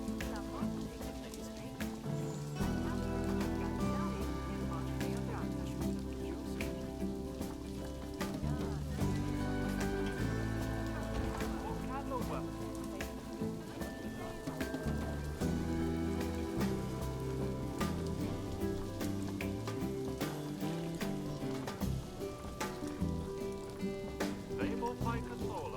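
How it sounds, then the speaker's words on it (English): Rain falls in the video game Planet Zoo as a soft, steady patter running continuously under layered game music and ambient sounds, with speech present. "Oh, look! It's raining again."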